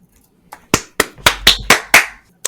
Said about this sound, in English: Do we need to clap our hands 3 times?